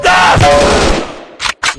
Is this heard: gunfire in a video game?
yes